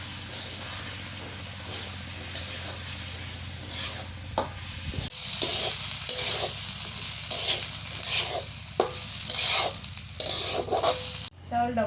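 Rice is fried and stirred in a pan with browned onions for pulao, giving a close, continuous sizzle with repeated scraping stirs and occasional utensil knocks, growing brighter and louder midway.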